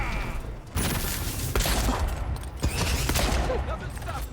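Dense fantasy-combat gunfire from Avowed, a steady barrage of overlapping shots and booms with sharp cracks standing out, under excited speech.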